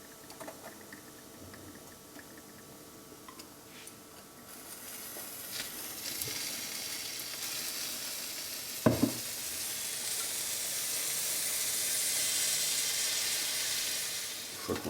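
A crêpe fries in a hot pan as Baileys is poured over it, a steady close sizzle that swells into a louder, brighter hiss partway through, with a few small stirring knocks.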